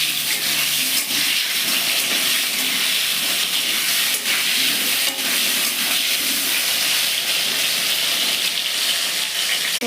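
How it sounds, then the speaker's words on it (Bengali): Pointed gourd frying in a pan with potatoes to follow, giving a steady, close hiss and sizzle that runs unbroken and evenly loud throughout, with no talk. "পটলটা আমার ভাজা হয়ে এসছে একটু"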